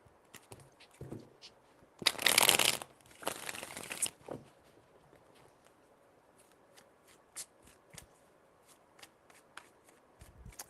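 Cards are shuffled in a loud riffling burst, then a second shorter riffle, followed by light scattered taps and card handling in a quiet room.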